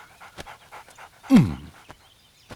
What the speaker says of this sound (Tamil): அம்மா யார் நாயின்னு தெரியலையடா, வெளியே வந்துருச்சு போல இருக்க.